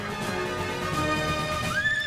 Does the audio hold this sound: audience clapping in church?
no